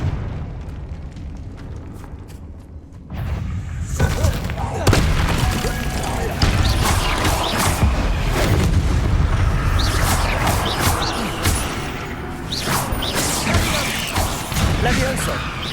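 Blasting spell explosion in the Hogwarts Legacy video game, a deep rumbling boom that swells in after a quieter start and rolls on with crackling debris and scattered bursts amid game noise.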